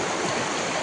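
Fast-flowing floodwater rushes steadily during a flood in Hailakandi, a continuous broadband roar with no breaks, close and fairly loud throughout the short moment.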